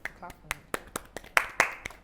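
Several sharp claps at a steady, fairly quick rhythm, close up, with a voice briefly in the background.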